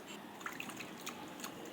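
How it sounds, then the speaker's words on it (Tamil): Water poured over dried anchovies (nethili karuvadu) being washed, a low steady splash with scattered small drips and trickles throughout. "மறுபடியும் இதை தண்ணி ஊற்றி நல்லா வாஷ் பண்ணி எடுத்துக்கலாம்"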